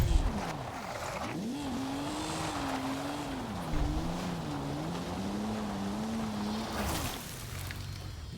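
A Ferrari engine in Forza Horizon climbs a hill with a continuous revving drone whose pitch rises and falls as the car strains uphill, loud and close with some wind noise.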